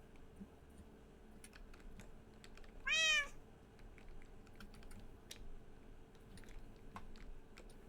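A single clear meow from a Minecraft cat rings out around the middle, set against quiet, steady computer keyboard typing and clicks.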